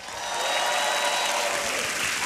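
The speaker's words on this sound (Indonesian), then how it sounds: "tepuk tangan sekali lagi untuk Babe" A studio audience at a Stand Up Comedy Indonesia taping applauds comedian Babe Cabita, steady broadband clapping that swells in quickly and holds loud and dense for a couple of seconds with no talk over it.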